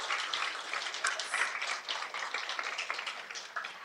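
Audience applause at a school board meeting, a sustained burst of many hands clapping across the room, fairly even in loudness and slowly tapering toward the end.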